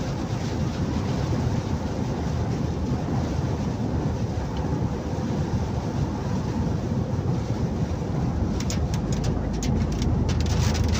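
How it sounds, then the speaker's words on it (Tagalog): Steady rain pouring down, a dense continuous hiss across the whole stretch, with a few sharper taps near the end. "nag-uulan-ulan na naman banda rito"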